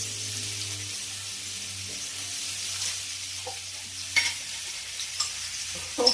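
Steak frying in a pan with oil, butter and garlic, a steady close sizzle with a low hum underneath and occasional clinks and scrapes as the pan is stirred.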